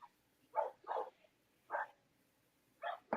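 A dog barks in the background in short bursts, two quick barks, then a single one, then two more, each muffled and moderately distant against near silence.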